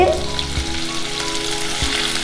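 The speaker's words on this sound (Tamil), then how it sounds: "இப்போ ரெண்டு ஸ்பூன் எண்ணெயை ஊற்றி இப்போது இந்த வெங்காயத்தையும் அந்த தக்காளியையும் போட்டு கொஞ்ச நேரம் ஒரு ஒரு அஞ்சு நிமிஷம் இதை வதக்கிட்டு" Onion and tomato fry in two spoons of oil for hotel-style sambar, with a steady close sizzle and a few soft stirring knocks against the pan.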